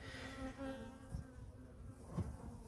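Honey bees buzzing around an opened hive during a first spring inspection after wintering, agitated and droning steadily at close range but fairly quiet.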